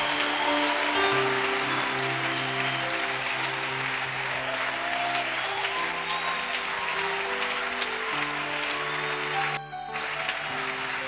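Congregation applauding during a church worship service, a steady dense wash of clapping running throughout with music or sustained tones beneath, briefly dipping near the end.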